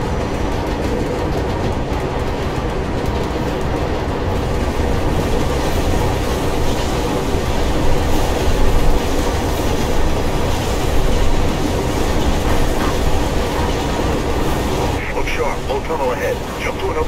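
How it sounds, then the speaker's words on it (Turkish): A train rolls along rails in Mirror's Edge, a loud continuous rumble with rhythmic clatter and metallic squeal near the end, with voices talking over it. "Take the train."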